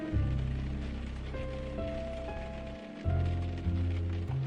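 Steady rain hisses in the video game Blackwell Epiphany as a constant wash of noise under a low droning musical tone, with no one speaking.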